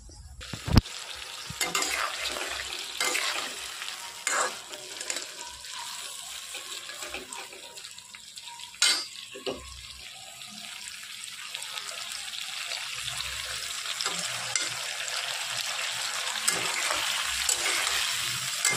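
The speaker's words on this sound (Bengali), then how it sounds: "চিংড়ি মাছগুলোকে ভালো করে ভেজে তুলে নিই।" Large prawns frying in oil in a home kitchen pan, a steady bright sizzle with wet bubbling and occasional stirring clatters throughout.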